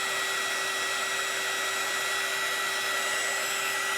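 A dryer blows steadily on a round gold craft frame, a continuous loud whooshing whine with a steady pitch that never changes for the whole stretch, with no speech over it.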